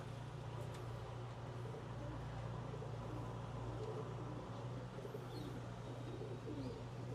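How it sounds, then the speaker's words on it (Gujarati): Teddy pigeons kept by a high-flyer pigeon fancier give soft, steady cooing that runs through the whole stretch beneath a constant low background hum, with no talk. "ટેડી છે કબૂતર."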